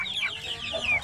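Chickens being readied for shipping cluck in short, close calls, several overlapping bursts within about a second.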